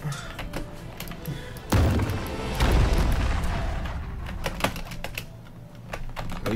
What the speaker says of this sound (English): God, I used a bomb!